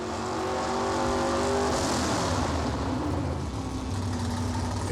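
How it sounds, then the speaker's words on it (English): A COPO muscle car of about 1,100 horsepower fires up and runs at a loud, steady roar with a rise in revs early on, a dense, continuous engine sound close by with no voices. "start the car"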